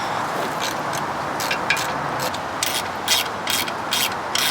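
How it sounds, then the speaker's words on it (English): A ratchet cranks on the bolts of a Bass Tracker boat's lower unit during an impeller change, repeated sharp clicking strokes in uneven bursts over a loud steady background noise, with no talking. "let's crack these bolts loose."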